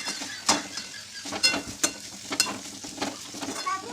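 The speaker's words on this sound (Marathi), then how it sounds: "झाकण काढून मी त्याला व्यवस्थित असं मस्त असं हलवून घेतलेलं आहे" A cooked vegetable dish is stirred in a pan with a spoon, giving repeated scraping clicks and knocks in an irregular rhythm over a continuous low sizzle, close and fairly loud.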